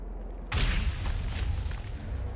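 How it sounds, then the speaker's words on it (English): An exploding barrel in the video game Doom Eternal sets off one sudden loud blast with a deep low rumble, which then rolls on as a sustained, noisy roar. "Barrel blast."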